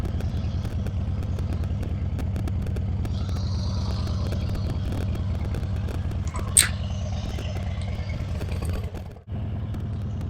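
A Harley-Davidson Breakout 117 motorcycle rumbles along at a steady low throb while being ridden, close and continuous, with a sharp brief noise midway and a short dip near the end.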